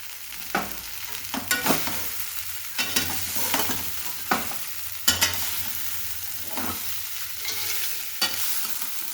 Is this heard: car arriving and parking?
no